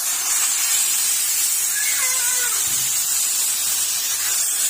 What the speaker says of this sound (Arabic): هنبدا ننزل بالميه